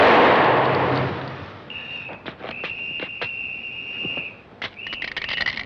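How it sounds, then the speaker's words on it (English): Gunshots in a 1962 French crime film scene: a run of sharp, fairly loud reports scattered across the scene after an opening rush of noise, with a high steady alarm-like whistle sounding underneath. "And some dudes get shot, and Salignari gets shot by Maurice."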